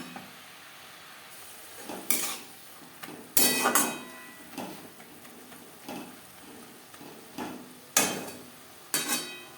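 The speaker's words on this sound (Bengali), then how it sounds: "হাই টু মিডিয়াম ফ্লেমে তিন চার মিনিট নাড়াচাড়া করে নেব" Pea shoots frying in a pan over high to medium flame, stirred with a utensil: a steady soft sizzle broken by about eight sharp metallic scrapes and clanks against the pan, close and clear, with no talking.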